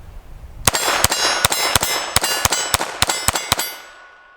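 Eleven sharp FN 502 Tactical .22 LR pistol shots fire in a quick, fairly even string, each a close, loud crack with a short ringing decay and no voices.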